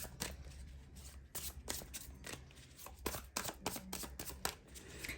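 Tarot cards shuffled and drawn from a deck, a close, quiet run of rapid papery riffles and flicks in irregular bursts, with no voices.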